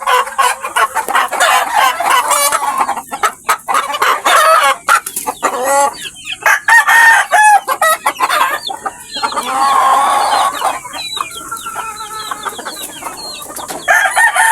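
Pet chickens cluck loudly and busily close by in a coop, with a rooster's crow rising among the rapid, overlapping calls.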